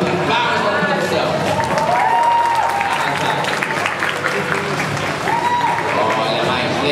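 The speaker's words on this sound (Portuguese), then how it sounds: "palmas para a produção" An audience at a Brazilian cosplay awards ceremony applauds the production team. The clapping is loud and sustained, with cheering voices rising and falling through it.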